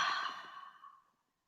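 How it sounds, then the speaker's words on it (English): A single long exhale during a vinyasa yoga session, a close, breathy sigh that starts full and tapers off to silence over about a second. "And exhale out."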